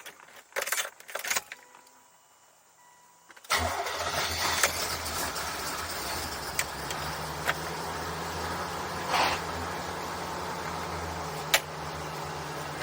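Keys jangle briefly, then a C4 Corvette engine cranks and fires into a steady, close idle with a low rumble that holds to the end.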